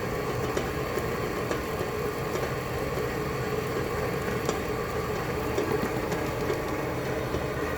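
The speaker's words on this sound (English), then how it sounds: "you hear the mixer is kind of working" An electric mixer beating banana bread batter in a bowl, a continuous close motor whir with a low churning rumble and faint clicks, steady and unbroken, no voices.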